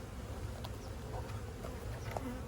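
Honey bees just transferred from a nuc hum around their new hive, a faint, steady low buzz with occasional closer passes.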